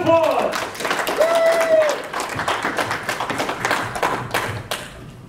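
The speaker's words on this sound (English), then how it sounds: "Give me a round of applause." An audience claps and applauds in a continuous patter, with a couple of brief voices rising over it early on.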